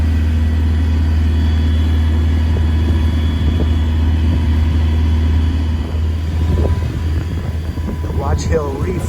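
A sailboat's motor runs steadily under power on a coastal trip near Watch Hill, a loud, constant low drone with a faint whine on top and a few brief sounds near the end.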